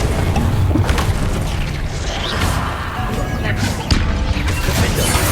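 Confringo spell explosions from the video game Hogwarts Legacy, a dense, loud barrage of booms, crashes and whooshing impacts with repeated sharp hits layered over continuous battle noise.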